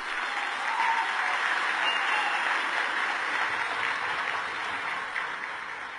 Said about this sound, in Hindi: सबका जोरदार तालियों से स्वागत कीजिए प्लीज